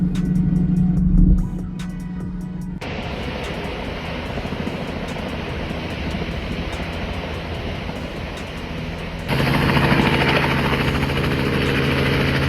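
A helicopter's steady rotor drone, loud and close, shifting in intensity with broad rumbling noise throughout.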